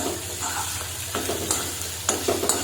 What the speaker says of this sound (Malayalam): ഇളക്കി യോജിപ്പിക്കാം.